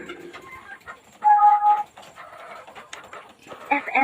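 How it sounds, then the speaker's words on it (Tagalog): Chickens in a farm coop give scattered clucks and squawks, with a louder burst of calls, while a person talks nearby. "Ngayong araw ay dito tayo sa ating manukan"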